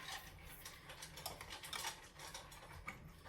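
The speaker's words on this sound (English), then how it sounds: "There's 1/4 cup, 1/2 cup, stir that together." Flour and water being stirred together into a batter for yeast dough, soft irregular scraping and light clicks of a utensil in a bowl, quiet and close, with no voice.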